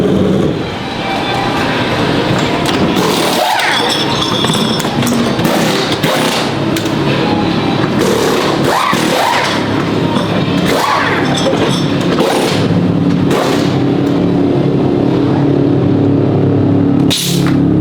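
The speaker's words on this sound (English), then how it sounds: "Practice pit stop before the race." Porsche race team practising a pit stop before a race, a loud dense wash of engines, pneumatic rattles and thumps with bursts of hissing air, busy crowd-like pit lane noise throughout.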